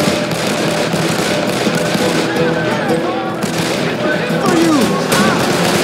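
Gunfire fills a Call of Juarez: The Cartel firefight, a dense crackling stream of shots and bursts running steadily throughout, with a voice calling out over the din.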